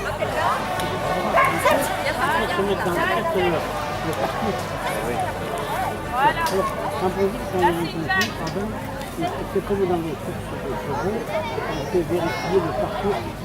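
A dog barks now and then at a dog competition, mixed into steady crowd chatter and people talking nearby.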